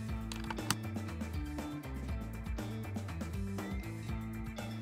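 Bolts being snugged down to compress a toilet wax ring in a test setup, giving a steady, close run of clicking ratchet-like mechanical ticks and gear sounds with no talk.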